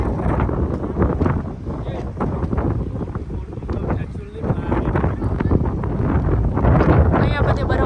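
Cold mountain wind in Spiti Valley buffets the microphone as a loud, continuous rushing roar that swells and dips in gusts, with voices faintly in the mix.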